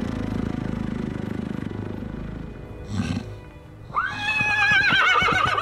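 A low rumbling snort leads into a loud, shrill horse whinny rising and wavering, with a few hoof thuds beneath it.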